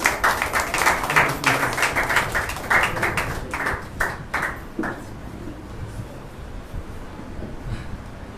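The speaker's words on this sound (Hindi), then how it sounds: "आइए जोरदार तालियां बजाएंगे प्रभु के दास के लिए।" A church congregation at a Maundy Thursday service claps loudly in a fast, rhythmic unison beat for about five seconds, then fades into quieter room noise.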